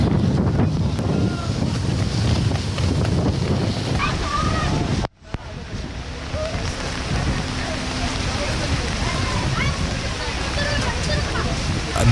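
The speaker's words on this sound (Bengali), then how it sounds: "যেটা হওয়া সেটাই হচ্ছে, ধুমসে বৃষ্টি নেমে গেল" A downpour of heavy rain roars as a loud, broadband wash with a gusty, wind-buffeted character, briefly cut out near the middle before it resumes just as strong; no voices can be made out.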